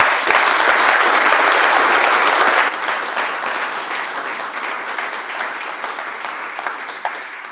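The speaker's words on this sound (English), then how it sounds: "So give Claire and her team at CI a round of applause." Audience applause at a board of directors' annual meeting, loud and sustained for a few seconds before easing to a softer, steadier clapping that continues to the end.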